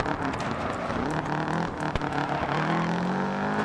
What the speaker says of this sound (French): Écoutez le son, le bruit moteur, franchement c'est énorme.